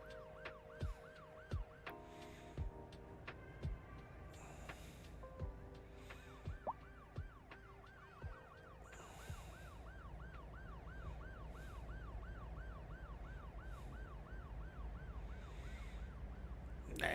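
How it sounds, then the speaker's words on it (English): Ambulance sirens from a video game wail on and on in a steady rising-and-falling cycle, layered with other tonal alarms and sharp intermittent clicks, and no one speaks. "The ambulances are just carrying everybody to the hospital now."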